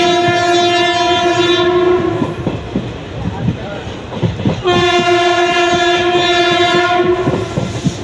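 A passenger train travelling from Karur to Tirunelveli rolls along with steady rumble and clicking wheels, its horn blaring loudly twice in long sustained blasts.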